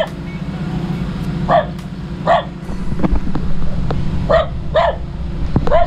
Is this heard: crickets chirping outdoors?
no